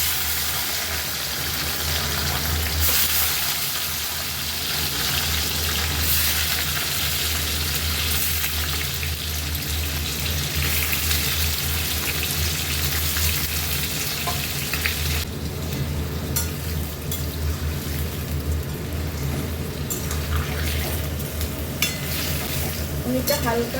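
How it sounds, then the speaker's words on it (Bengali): Paneer fries in hot white cooking oil with a continuous, fairly loud sizzle and crackle, with occasional stirring scrapes and small clinks from the pan throughout. "তেলের মধ্যে পনির দিয়ে দিচ্ছি।"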